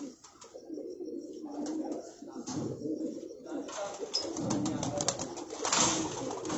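Sialkoti pigeons cooing close by in a loft, steady soft throaty coos repeating over a busy background with faint voices.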